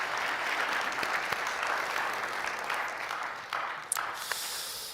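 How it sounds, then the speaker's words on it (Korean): A church congregation claps through a Sunday worship service, with steady, moderately loud applause that fades slightly toward the end. "한번 박수 한번 하시죠, 우리 형님."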